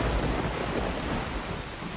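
Thunderstorm in a GameCube Zelda game, with dense steady rain and a deep rolling thunder rumble filling the whole stretch at an even, fairly loud level.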